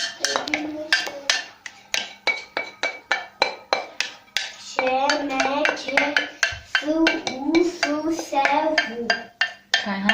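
Pasta being stirred in a pot with garlic yogurt, giving a run of spoon-on-pot clinks and scrapes in an uneven rhythm, close by, with a voice talking over the second half.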